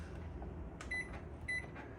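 Two short electronic beeps from the control panel of a microwave in the kitchen of a 2024 Forest River Salem Hemisphere 325RL fifth wheel RV, each paired with a soft button press, close and clear over quiet room noise.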